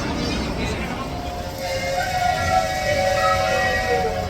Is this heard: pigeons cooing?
no